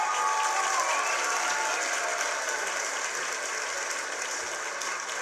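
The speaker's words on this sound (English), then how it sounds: "The crowd erupts in cheers." A crowd cheers at a tennis match in the video game Tennis Ace, a dense, steady wash of clapping and roaring that stays loud throughout before easing slightly at the end.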